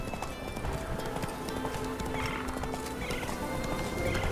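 Roach the horse gallops in The Witcher 3: Wild Hunt, with rapid rhythmic hoofbeats running continuously over a game soundscape.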